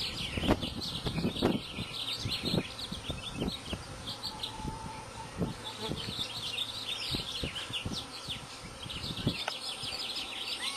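A swarm of bees hums in a dense, continuous drone outdoors, loud and close throughout, with individual bees buzzing past and birds chirping faintly in the background.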